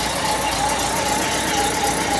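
A 1964 Mercury car engine idles steadily after a cold start, a close, continuous low rumble with a faint whine and no talk.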